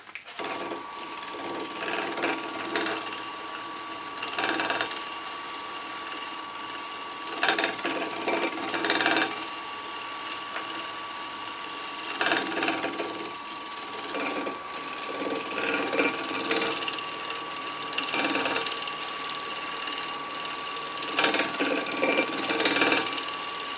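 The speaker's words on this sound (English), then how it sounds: "I'm going to use my large scraper here, and I'm going to be shear scraping the outside to get rid of all those tool marks" A large scraper shear-scraping the outside of a spinning wooden bowl on a lathe, repeated rasping passes every couple of seconds over a constant motor hum, no voices.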